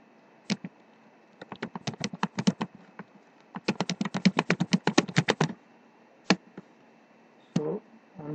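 Rapid keystrokes on a computer keyboard while a message is typed, coming in quick bursts of clicks with short pauses and a few isolated taps near the end, close and clear in a quiet room.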